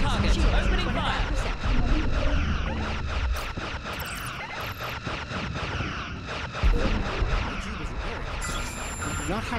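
Starship weapons fire in a Star Trek video game: rapid, loud bursts of energy shots repeat across the clip, with voices and bridge chatter over the top.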